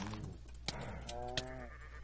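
A sheep in Minecraft, played with the FTB Hubris modpack, gives a couple of short wavering bleats close by, one after another over a low background hum.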